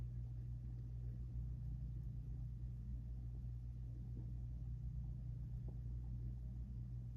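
A vintage Emerson Electric 16-inch table fan spinning down after switch-off, giving a faint, steady low hum and soft whir that holds evenly and stays quiet throughout.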